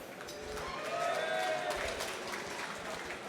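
An audience at a technology awards show cheers and applauds in a broad, noisy wash that swells around the middle and then slowly fades, heard from within the room at moderate loudness.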